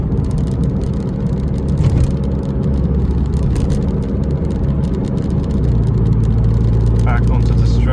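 A Renault Clio RS engine drones loud and close while driving, its low roar steady with a shift in pitch partway through that suggests a downshift; no clear talk over it.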